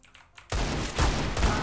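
Bursts of rapid gunfire in CS:GO on the old Dust 2 map crackle in quick succession after a quiet start, loud and close, with repeated volleys and no talking.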